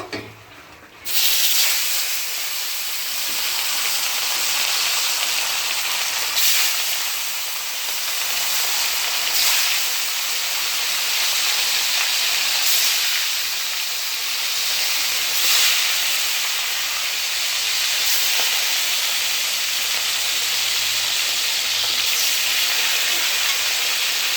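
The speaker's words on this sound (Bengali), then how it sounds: "এবার মাছগুলো ভেজে নেব।" Rohu fish pieces fry in deep hot oil with a loud, steady sizzle and crackle that holds throughout, brief bursts of louder spattering now and then, and no talk.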